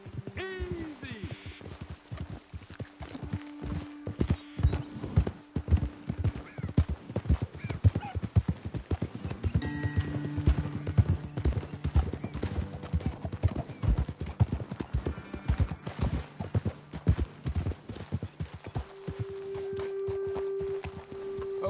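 Horses in the video game Red Dead Redemption 2 moving at a steady clip-clop over ground, hooves close and continuous, with occasional snorts and a whinny as characters talk over them.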